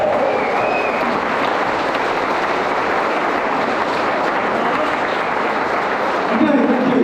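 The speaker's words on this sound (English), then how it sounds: "Big round of applause" A party crowd in Amsterdam applauds in a loud, dense, steady wash of clapping that lasts throughout, with a few cheers rising near the end.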